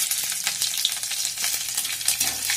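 Chopped chillies and panch phoron crackle and sizzle in hot oil, a dense close frying hiss punctuated by sharp pops and spatters, with no voices.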